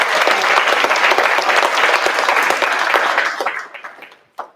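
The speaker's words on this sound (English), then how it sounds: "we'll have the audience clap for you one more time." Loud applause from an audience at a school district special board meeting, a thick roar of clapping that rolls on for a few seconds before dropping off quickly, with one last stray clap.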